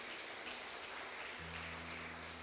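A church congregation applauds during a sermon, a dense, soft patter of many hands that runs throughout at low volume, with a faint hum joining partway through.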